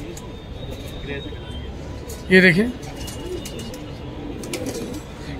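Pigeons perched on a rooftop ledge give a single short, clear coo over steady outdoor background noise, with someone speaking briefly nearby.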